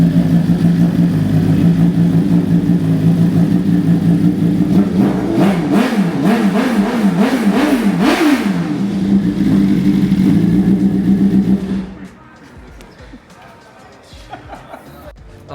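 A 2024 BMW M1000R engine idles loudly nearby, then is blipped through a quick series of sharp revs that rise and fall before settling back to idle and cutting off, with faint talk afterward.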